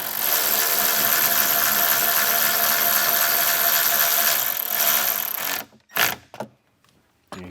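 A ratchet tightens the factory side bolt on a Ford Bronco rear speaker pod: a dense, continuous clicking for about five seconds, then a few short separate clicks.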